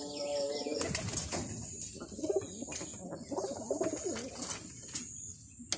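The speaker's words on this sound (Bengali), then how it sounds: "আগে যার সাথে জুটি হয়েছিল সে এসে ডাকাডাকি করাতে আবার তার সাথে যাই করতেছে" Pigeons coo repeatedly at close range amid bursts of flapping wings, as a previously paired bird calls to its former mate; the sounds are busy and layered, with no talking.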